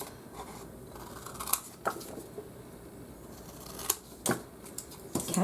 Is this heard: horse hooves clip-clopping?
no